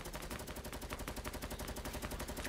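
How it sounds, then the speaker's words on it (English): A light machine gun fires in Fortnite, a steady, continuous stream of rapid shots at an even rhythm, sustained for the whole stretch. "You don't need AR ammo, you're using the machine gun, the light machine gun"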